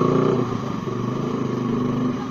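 A motorcycle engine idles and rumbles close by with a steady, throbbing pulse, loud and continuous throughout.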